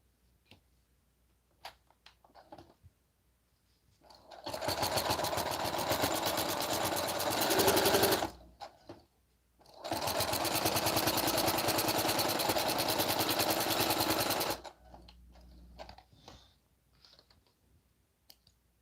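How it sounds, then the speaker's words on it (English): A home sewing machine runs a straight stitch down a side seam in two long, steady bursts of rapid motor hum and needle clatter, each about five seconds, separated by a short pause, with light handling clicks before and after. "I sew a straight stitch down on the seam"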